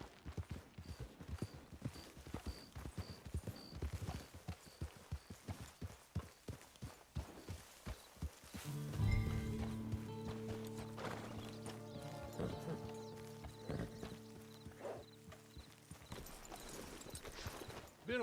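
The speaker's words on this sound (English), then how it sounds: "It's your horse." Horse hooves clip-clop at a walking pace, then a horse snorts and whinnies while soft music swells in the background, in the video game Red Dead Redemption 2.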